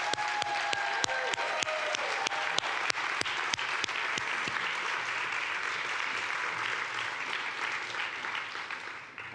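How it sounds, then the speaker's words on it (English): Audience applause in a conference closing session thanks the convening lead: sustained dense clapping with sharp individual claps early on, holding steady before gradually thinning and fading at the end. "I want a round of applause to extend our deepest thanks to Shayna Wasserman"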